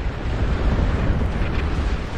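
Airstrike explosions in a tower defense video game, a dense, loud low rumble of blasts running continuously for a couple of seconds, with no voices.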